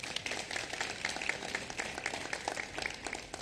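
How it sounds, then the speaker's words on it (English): Applause from an audience at a landmark signing ceremony, a steady, moderately distant patter of many hands clapping that continues through the whole stretch without any speech over it. "So please give him another round of applause."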